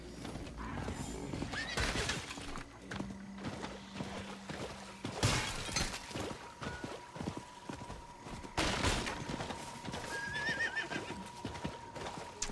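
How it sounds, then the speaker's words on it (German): A horse neighs and its hooves clop in the dark fantasy game Diablo IV, amid clanking mechanical effects and bursts of combat noise, with steady game tones underneath. "Aufs Pferdchen."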